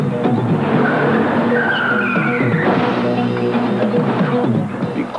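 A car with failed brakes skids, its tires squealing in long, sliding, pitch-bending whines over a loud engine roar, close and sustained for several seconds.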